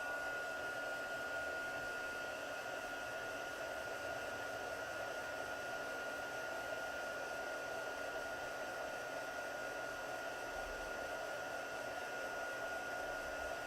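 A heat gun blows steadily for heat embossing craft images, its constant whirring hiss running unbroken and even at moderate level throughout.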